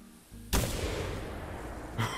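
A 12-gauge shotgun slug fires once in theHunter Classic, a hunting video game: a loud, sharp blast with a long booming tail, then a second thud near the end, all without talk.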